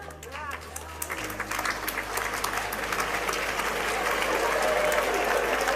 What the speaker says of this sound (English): Parents are applauding, graduates are not.